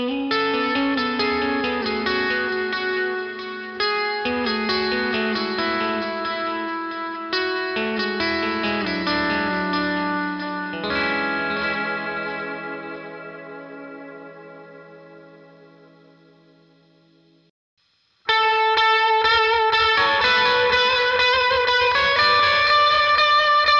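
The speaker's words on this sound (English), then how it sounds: "I'm going to turn on my transparent overdrive, my dotted eighth delay, and also the reverb that we just played" Electric guitar through transparent overdrive, dotted-eighth delay and reverb plays sustained worship-style chords that swell and ring out, with echoing repeats trailing into a long decay to near silence before a final loud chord returns.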